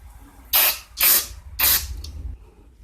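NAPA carburetor and choke cleaner sprayed onto a 2002 Craftsman Tecumseh 4.25 HP engine, three loud close hissing bursts of about a third of a second each, evenly spaced, then a short faint puff.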